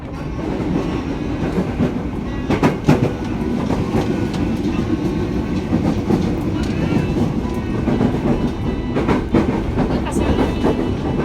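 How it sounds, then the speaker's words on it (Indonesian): Steady rumbling of a train on rails in Indonesia with rhythmic clacks and knocks, heard from inside the carriage, continuous and fairly loud, with faint voices in the background. "Oke, kita berangkat pakai kereta."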